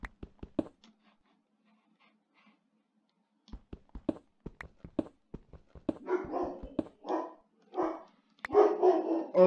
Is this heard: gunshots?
no